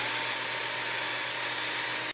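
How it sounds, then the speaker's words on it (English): A power drill bores a hole through PVC pipe for a homemade bird feeder, a steady close whirring grind that holds for about two seconds before cutting off abruptly. "we're going to take and grab and drill another hole"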